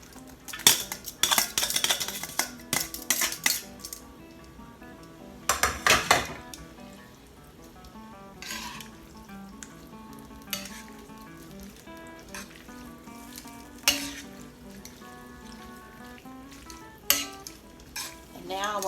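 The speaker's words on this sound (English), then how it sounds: "now I'm going to add my pasta and toss it" Spaghetti being tossed and stirred in a frying pan with a reduced garlic sauce, with loud bursts of metal utensils clattering against the pan between quieter stretches of soft sizzling and stirring.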